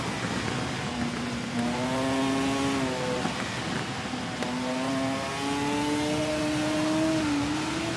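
Superbike engine in TT Isle of Man racing game, with a close, loud whine that rises with throttle, dips between gears, then climbs again over steady road noise.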